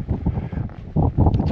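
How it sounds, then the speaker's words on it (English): A strong, cold easterly wind buffets the microphone on an exposed Cheviot hillside, producing a close, loud, gusting rumble for a second and a half. "The wind has picked up."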